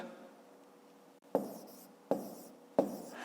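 A pen writes numbers on paper while working a long division problem: three sharp taps of the pen, each followed by a short scratchy stroke, close and quiet.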